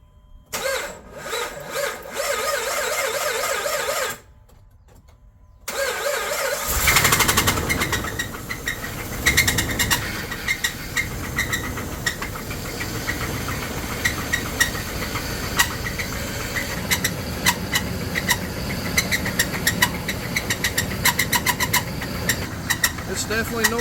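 A 2005 RAM 1500 4x4 with a 5.7L HEMI V8 cranks briefly, pauses, then fires and settles into a loud, steady idle with a rough, knocking clatter, heard close up with some talk early on.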